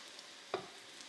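Meatballs browning in oil in a pan produce a brief, quiet sizzle that rises sharply and fades quickly, set against a low steady kitchen hiss.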